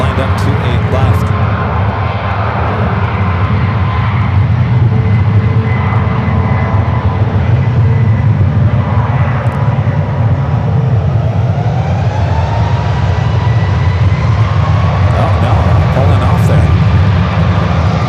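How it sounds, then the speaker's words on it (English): United Boeing 777 lined up on runway 28 left at San Francisco, a loud, close, steady low engine rumble and whine with radio chatter and talking over it. "I got that United 777 that lined up 28 left."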